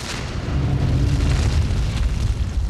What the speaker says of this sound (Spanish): Ya tenemos una supernova.